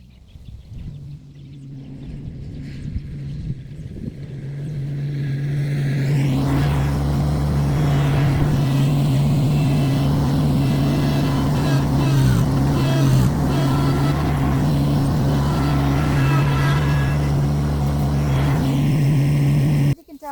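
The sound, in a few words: tractor scraping grass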